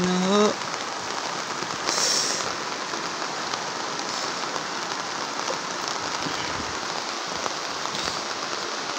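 Heavy rain from Typhoon Carina pours steadily onto surfaces in a flooded area, a dense, continuous wash that stays loud and even throughout, with a brief voice near the start.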